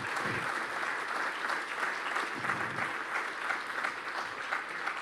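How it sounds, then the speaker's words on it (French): An audience at a talk on cold atoms and time measurement applauds warmly, a sustained, somewhat distant patter of many hands clapping without speech. "On vous applaudit avec chaleur malgré la froideur des atomes."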